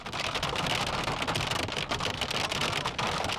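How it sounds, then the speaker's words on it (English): Hail falling during a severe thunderstorm, a dense, continuous clatter of hailstones pelting surfaces nearby, loud and unbroken throughout. "These storm spotters got a little too close to another severe weather danger, hail."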